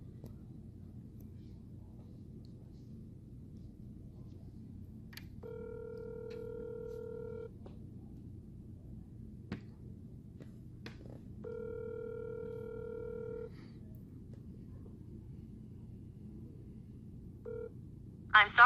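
A ringback tone sounds on a phone call before a voicemail message comes on: two long electronic rings separated by a quiet gap, then a brief third tone at the end, over low background hum.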